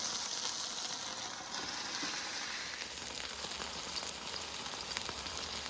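Cajun burger patties frying in a pan, a steady close sizzle and crackle with faint sputtering pops throughout, no talking.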